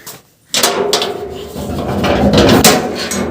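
A door is shut after a brief quiet, giving a loud, close clunk followed by rattling and scraping noise as it settles, with no voices.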